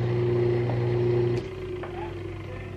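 Steady hum of a 1930s/1940s Frigidaire 1/2HP repulsion induction motor running at around 3.5 amps, a strong tonal drone that steps down in level partway through, with faint clicks and handling noise.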